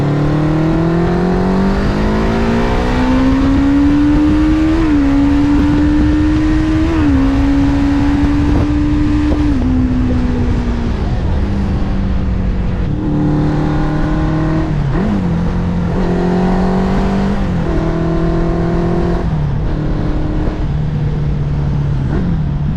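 A Suzuki GS550 motorcycle engine under way on the road, its four-cylinder note climbing and falling through several gear changes, loud and continuous with wind noise and no talk.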